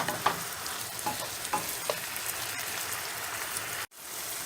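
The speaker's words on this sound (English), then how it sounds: "we take our minced garlic and go ahead and add that in and mix it real good" Minced garlic stirred into honey garlic chicken bites frying in a pan: a steady, close sizzle with scraping stirs, then a brief sudden drop in the middle before the frying resumes.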